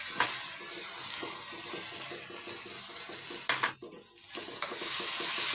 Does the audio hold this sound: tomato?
yes